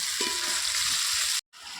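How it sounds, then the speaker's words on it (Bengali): Chicken pieces sizzle and crackle in hot oil with turmeric, chili powder, onion paste and green chili paste for chicken biryani, a close, steady fry that cuts out briefly near the end. "মাংসটা তেলে দিয়ে হালকা করে ভেজে নেব"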